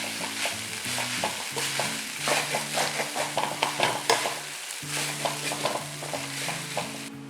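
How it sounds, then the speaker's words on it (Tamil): A spatula scrapes and tosses cauliflower (gobi) fried rice made with plain rice in a pan over high heat, repeated rhythmic stirring strokes over a constant sizzle, close and fairly loud, with a low steady hum underneath. "இப்போ இதை ஹை ஹீட்டில் வச்சுட்டு நல்லா மிக்ஸ் பண்ணிக்கணும்"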